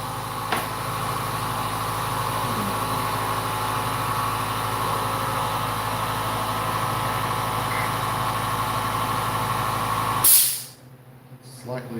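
An air compressor runs steadily and loud with a constant mechanical hum, then cuts off abruptly near the end, leaving a quieter room.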